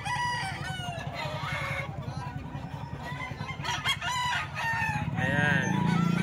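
Roosters crow amid clucking fowl at a Saturday chicken market by SM Baliwag, with several harmonic calls rising over a steady low crowd murmur and nearby voices.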